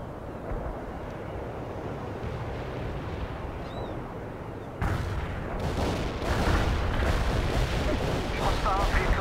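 Artillery fire in the World in Conflict strategy game: dull distant booms and rumbling blasts over a steady battle din, growing louder and denser midway, with faint game voices in the background.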